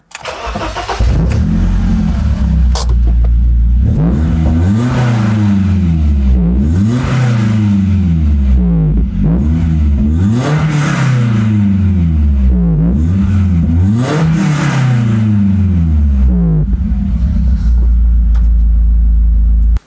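A BMW Z3 engine with a Supersprint racing exhaust starts and revs repeatedly, rising and falling in several strong throttle blips before settling to a rumbling idle.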